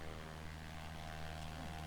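A float plane's engine drones steadily in X-Plane 11, a low, even propeller hum held at a constant, fairly quiet level with no breaks.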